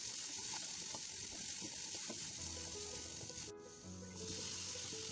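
Soaked moong dal sizzling loudly in hot oil with curry leaves in a pan for cabbage curry, a steady close frying hiss with crackles that briefly dips near the end.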